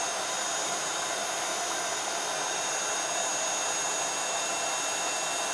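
A heat tool blasts steadily and loudly at close range while melting glittery embossing powder on a floral card, a continuous broadband whoosh with no pauses.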